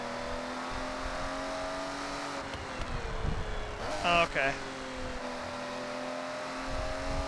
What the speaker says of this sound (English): Race exhaust was a good call.